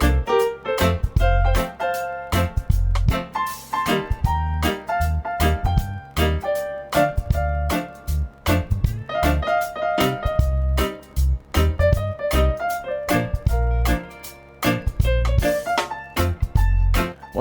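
A live band plays a song, with a punchy bass and kick drum groove, crisp percussion hits and melodic lines over a steady rhythm, loud and continuous throughout.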